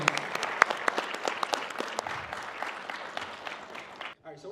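Audience applause at an industry talk event, a dense wash of hand claps with a few sharp louder claps, fading out near the end as a voice starts speaking.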